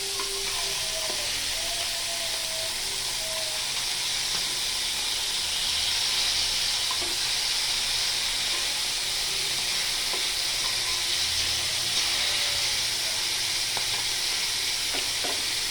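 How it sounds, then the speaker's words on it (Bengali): Steady, loud sizzling of fish frying in a pan, a continuous crackling hiss that holds throughout with occasional faint clinks. "আর একটু ভেজে নিব ভাজাটা সুন্দর হলে মাছটা অনেক টেস্ট হয়"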